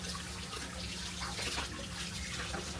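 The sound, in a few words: running water from a kitchen tap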